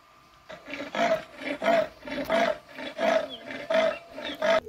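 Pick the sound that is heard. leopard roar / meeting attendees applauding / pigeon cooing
leopard roar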